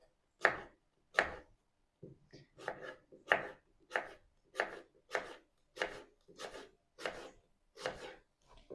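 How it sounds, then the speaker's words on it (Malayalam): A knife cuts an apple into small pieces in a home kitchen, with about a dozen crisp chops in a steady, unhurried rhythm, close and clear against silence. "നമുക്ക് ആപ്പിൾ ഒന്ന് കുഞ്ഞു കട്ട് ചെയ്തെടുക്കാം."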